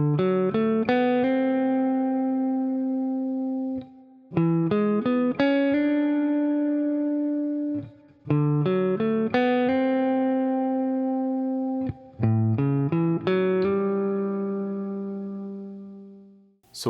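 A blues lick on guitar walking up from the sixth as a passing tone to the minor seventh, repeated four times in evenly spaced phrases of quick plucked notes that ring out and decay, clean and close with no talking.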